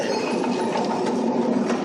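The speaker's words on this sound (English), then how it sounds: "We're right behind the train." Train rolling past at close range while being chased by car, a steady broadband rumble with faint rhythmic wheel clatter, continuous and fairly loud.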